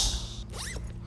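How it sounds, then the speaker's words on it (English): A clothing zipper is pulled once in a short, quick zip, with a rising scrape that ends abruptly and is heard clearly on its own. "Zipper."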